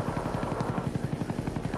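A Huey helicopter in a video game arrives with a steady, rapid rotor thump that pulses loudly and close throughout, with no voices over it.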